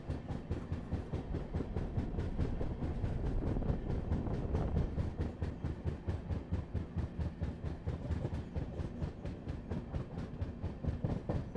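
Rajdhani Express on an Indian railway line passing another train halted at a station, a steady low rumble with rhythmic wheel clatter on the rails, faint and continuous throughout.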